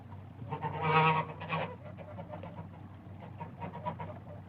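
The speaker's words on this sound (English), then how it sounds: "And there were geese." Geese call outdoors in the wild, giving a few nasal honks and bleating cries, loudest near the start and then trailing into softer, scattered calls over a low background rumble.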